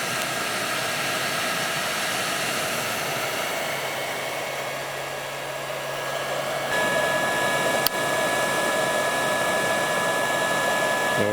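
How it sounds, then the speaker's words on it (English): Steady whooshing of a welder's cooling fan runs throughout, close and fairly loud, with a slight rise in level partway through and a brief click near the end. "you can hear that fan in the back"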